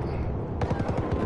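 Burst of rapid gunfire in a video game, close and fairly loud, a quick string of shots starting partway in over a noisy background.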